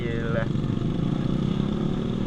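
A Honda CBR motorcycle engine runs at a steady mid-pitched drone, with a brief rising whine early on and a voice talking over it.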